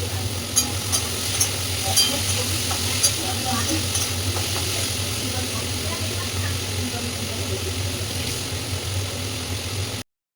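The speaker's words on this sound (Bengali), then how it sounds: "এদিকে আলু পেঁয়াজ সমস্তটাই কেটে নিয়ে একেবারে আলু চচ্চড়িটা বসিয়ে দেবো" Chopped potatoes and onions sizzle in a pan for aloo chorchori, a steady, close frying hiss with a few scraping stirs near the start and a low hum running underneath.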